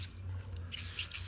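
Rust-Oleum crystal clear enamel sprayed from an aerosol can onto a homemade wooden bat, giving a close hiss that rises in two brief bursts over a steady low hum.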